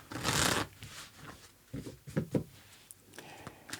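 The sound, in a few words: shuffling tarot cards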